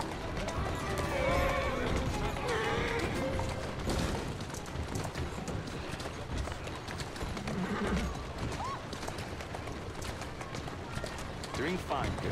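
A horse in the video game Syndicate, set in 1868, neighs and whinnies over steady clip-clopping hooves on a street, close and prominent, with a rider talking and other game voices mixed in.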